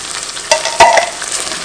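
Tomato pizza sauce from two canned tomatoes is stirred in a hot pan, with a close, soft simmering sizzle and two brief scraping strokes of the spoon.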